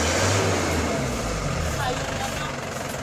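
An Isuzu Crosswind diesel engine on a cold start revs at high RPM with a loud, rough, steady drone. Speech is heard over the engine.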